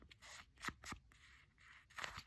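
Scissors cut paper in a circle around a coaster used as a guide for a collage, heard as close, quiet snips and crisp slicing strokes in short bursts with brief pauses between, with no talking.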